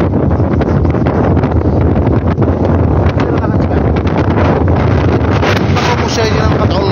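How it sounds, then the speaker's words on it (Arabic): Strong wind buffets a microphone at an outdoor gathering of a car convoy, a continuous loud roaring rumble across the whole stretch with muffled voices buried underneath. "قوة الرياح كاين البرد كاين البرد كاين البرد"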